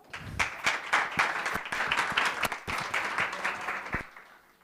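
Warm applause from a conference audience at a women's tech event on lightweight cryptography and IoT, dense steady clapping with a few sharp claps standing out, sustained for several seconds before trailing off at the end.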